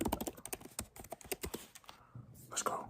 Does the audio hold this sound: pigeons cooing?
no